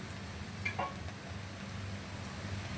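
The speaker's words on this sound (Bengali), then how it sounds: "পেঁয়াজ ভাজা ভাজা হয়ে গিয়েছে, এই পর্যায়ে দিয়ে দিব একটি ডিম" An egg is added to fried onions in a pan, a faint continuous sizzle with a few soft clinks early on, heard alone and fairly quiet.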